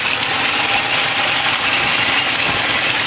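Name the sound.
pontoon boat engine idling in neutral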